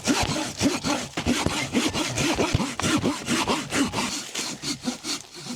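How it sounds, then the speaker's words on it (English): Saw cutting through a big standing dead tree for firewood in freezing outdoor conditions, a steady rapid back-and-forth rasp of many strokes, close and loud, with no talking. "So for firewood we are going to use this really big standing dead tree."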